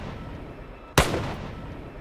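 A single sharp gunshot rings out loud and close in a violent movie scene, a sudden blast with a brief decaying tail over a low background rumble.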